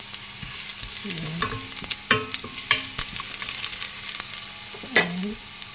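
Ginger sizzles steadily in hot oil after garlic, with a soft frying hiss running throughout and a few scraping stirs and clinks of a utensil against the pan, close and fairly quiet.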